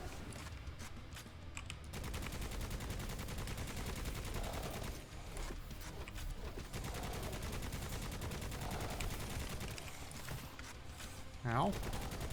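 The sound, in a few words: machine gun firing in video game Necromunda: Hired Gun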